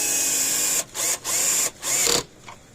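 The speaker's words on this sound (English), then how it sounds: "it's gonna take some persuasion to get the screws to go in" Screws are driven with a power driver into new, stiff plastic on an electric fence energizer, several short whirring bursts separated by brief pauses, close and loud.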